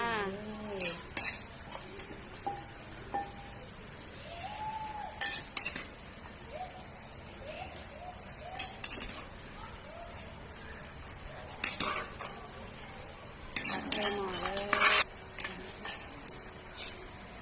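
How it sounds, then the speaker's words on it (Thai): Metal utensils scrape and clink against a pot in scattered bursts as Thai fish curry with mackerel and chicken feet is scooped in, with quiet gaps between the scoops. "ตักใส่หม้อเลยจ้า"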